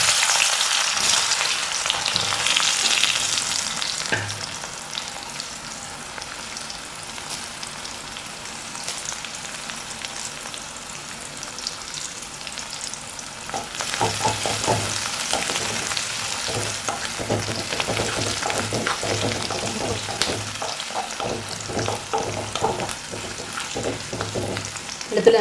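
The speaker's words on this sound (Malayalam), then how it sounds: "ആ എണ്ണയിലേക്ക് നമുക്ക് വെളുത്തുള്ളി ചതച്ച് വെച്ചിരിക്കുന്ന ഇട്ട് കൊടുക്കാം." Crushed garlic sizzles and bubbles in hot oil left over from frying peanuts for masala peanuts, a loud continuous frying hiss with stirring sounds and crackles that swell again partway through.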